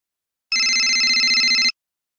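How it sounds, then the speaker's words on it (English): A single burst of electronic telephone ringing, a rapid trilling bell tone lasting about a second, loud and clear against silence. "Hold on, my phone's ringing."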